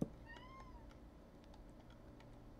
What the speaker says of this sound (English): Cat's squeaking for no apparent reason.